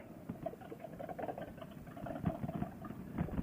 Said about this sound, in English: I can hear your exhaust through the audio in your helmet